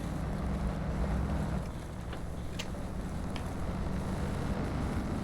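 A steady low engine rumble of a Toyota 4Runner TRD in the video game SnowRunner drones continuously, with a slight dip midway and faint wind-like noise above it.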